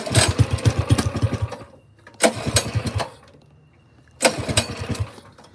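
A cold 212 cc mini bike engine, choke just taken off, revs in three separate bursts of loud, throbbing, rapid firing, each dropping back to a low idle between.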